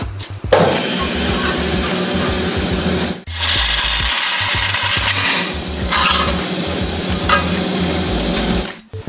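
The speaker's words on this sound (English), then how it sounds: "I like to use a bandsaw for this step" A bandsaw cuts the corners off a steel Harley bagger neck sleeve, giving a loud continuous grinding whine with two short pauses between passes.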